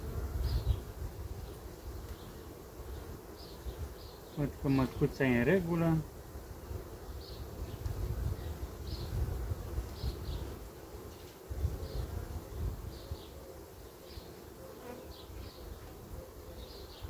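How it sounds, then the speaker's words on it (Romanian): Honeybees buzzing around queen cages on frames, a continuous close hum with a louder burst partway through, and someone speaks quietly over it. "În schimb aici au intrat și câteva albine,"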